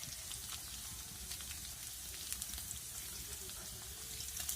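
Green chillies drop into onions frying in oil for a village-style dish, giving a steady, dense sizzle that runs unbroken throughout at moderate loudness.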